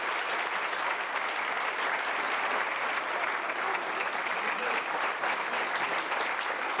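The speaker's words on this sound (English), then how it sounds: "Big round of applause for Eileen Moran." An audience at a tribute event in Ireland applauds, a steady wash of many hands clapping, fairly quiet and distant, continuing evenly without breaks.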